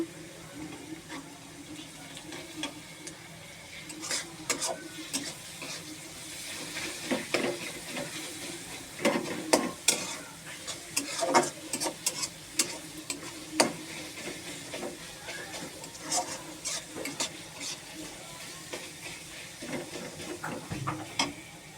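Onion sautés in a pan during preparation of a beef bhuna, a continuous sizzle broken by frequent scraping and clinking stirs of a utensil against the metal, close and fairly loud.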